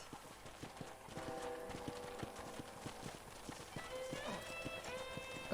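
Horse hooves clip-clopping steadily in the Red Dead Redemption video game, a regular galloping rhythm at moderate level under a faint music and ambient background.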